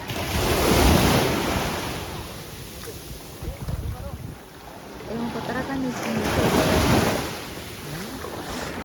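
Ocean waves surge and wash through the rock formations at Broken Beach on Nusa Penida, Bali, a steady loud roar with wind buffeting the microphone while people talk over it.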